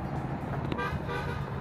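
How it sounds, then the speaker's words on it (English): A car horn toots at roadside walkers during an ultra-distance walk, a short blare over continuous passing traffic noise. "People are honking at us."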